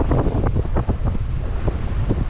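Wind of roughly 10 to 12 knots buffeting a sailboat under a janky autopilot, a steady rushing roar on the microphone with water sloshing against the hull, close and continuous.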